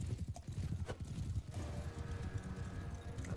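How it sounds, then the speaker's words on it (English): Horse hooves in Bannerlord thud in a loud, fast, rhythmic gallop during a battle charge, with a short whinny early on and constant hoofbeats to the end. "I think my horse is lame."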